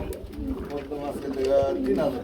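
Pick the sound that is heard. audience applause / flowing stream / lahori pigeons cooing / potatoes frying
lahori pigeons cooing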